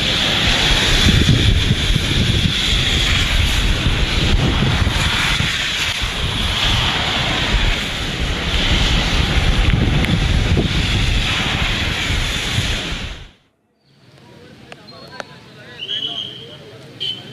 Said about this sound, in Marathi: जोरदार वारा वाहतोय आणि अशा स्थितीमध्ये समुद्राला देखील उधाण आलेलं आहे